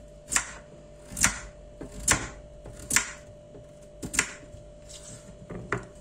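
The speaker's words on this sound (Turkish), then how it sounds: "Şimdi onları küp küp doğrayacağım." A knife dices potatoes into cubes on a cutting board, about seven crisp knocks at a slow, even pace, close by and without talk.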